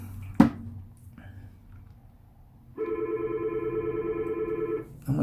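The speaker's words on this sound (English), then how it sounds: "I'm in the office and the phone's ringing." An office telephone rings with a steady electronic tone that holds for about two seconds, heard close and clear after a sharp knock and some quiet room noise.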